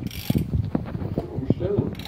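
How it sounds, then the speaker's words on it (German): A hand ratchet works a homemade motorcycle lift jack under a Yamaha XJ 600, making a string of close, quick mechanical clicks and clunks with a metallic creak near the end. "Ich habe das hier mit einer Ratsche, da geht das einfacher."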